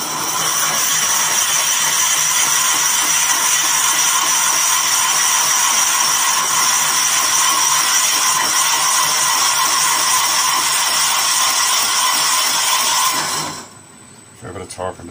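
A drill bit boring into tigerwood on a lathe, a loud continuous whirring grind that stops abruptly near the end.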